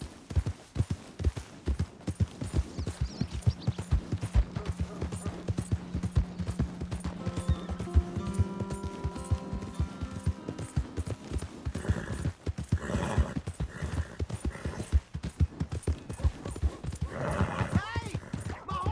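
A horse in Red Dead Redemption 2 clip-clops with steady hoofbeats, then gives a clear whinny, while someone speaks over the game sounds.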